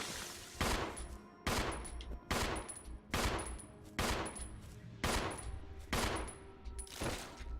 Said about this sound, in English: Billy used a shotgun